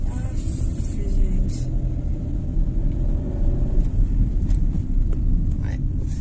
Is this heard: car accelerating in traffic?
yes